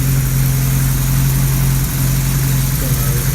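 A classic Ford car engine with an exhaust leak idles loudly and steadily close by, with a deep, constant rumble and rough, throaty exhaust noise throughout.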